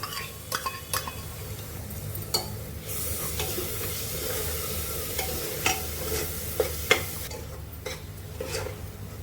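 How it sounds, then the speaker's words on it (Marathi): Roasted onion-coconut paste sautéing with onions in a pan for suran bhaji, giving a continuous low sizzle under repeated spatula scrapes and occasional clinks against the pan. "आपण हे भाजका वाटण टाकूया कांदा खोबऱ्याचं, ते पण चांगलं परतून घेऊया कांद्यावर"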